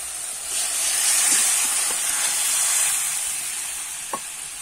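Fish curry broth poured into hot spice masala in a pan gives a loud, continuous sizzling hiss that swells and fades slightly over several seconds, with a few soft stirring knocks.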